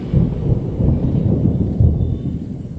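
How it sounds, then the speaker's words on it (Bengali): Deep, continuous rumbling thunder fills the whole stretch, loud and heavy with no other sounds. "হঠাৎ মেঘের গর্জন শোনা গেল।"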